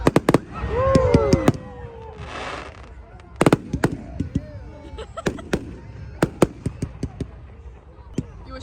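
Fireworks bursting on bonfire night, a string of sharp cracks and bangs near and far with whistling rockets early on, people talking and exclaiming between the blasts.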